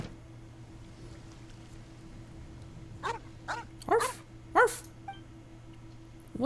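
Dog in a video game gives several short barks and yips in quick succession, fairly close, over a low steady background hum.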